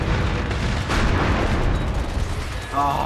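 Loud gunfire and explosive booms in the multiplayer shooter game MAG, a dense continuous barrage of battle noise throughout with no pauses.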